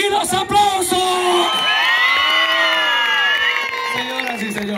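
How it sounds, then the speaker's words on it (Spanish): A crowd whoops and shouts loudly, with sustained cheering voices and some clapping mixed in, close and energetic. "¿Cómo no regalarles un grito y los aplausos?"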